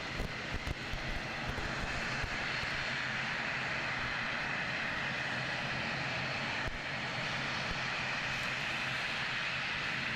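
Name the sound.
airliner flight from Palmerston North arriving at Christchurch Airport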